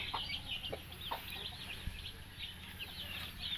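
A Rhode Island and Orpington mix hen clucks repeatedly in a farmyard, a series of short, fairly close calls over faint background noise.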